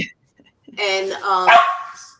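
A dog barks and yips a few times in quick succession, fairly close, with a short quiet gap before the barking starts.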